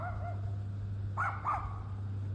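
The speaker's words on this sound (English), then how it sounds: "we got a wild dog situation" Wild dogs bark twice in quick succession at a moderate distance along an abandoned stretch of the Pennsylvania Turnpike, a couple of short yips standing out over a steady low hum and faint background noise.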